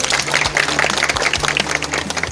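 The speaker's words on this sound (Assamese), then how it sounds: "এটা হাত চাপৰি দিয়ক সকলোৱে মিলি" Applause from an audience gathered at a flood relief distribution, a dense burst of many hands clapping, steady and fairly close.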